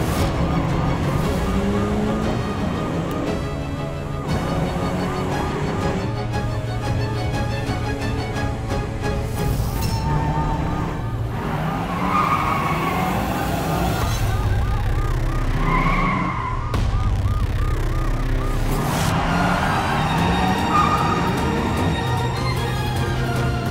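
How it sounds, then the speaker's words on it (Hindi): A car races fast during a chase, its engine roaring and tyres skidding under loud, dense background music, with sirens wailing intermittently throughout. "हम जिस गाड़ी के पीछे जा रहे हैं, आई होप कि रज्जो उसी में है।"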